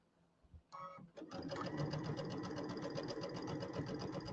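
A sewing machine stitches while embellishments are assembled for a home haunt display, starting with a few short bursts and then running in a steady, fast, loud rhythmic chatter until the end.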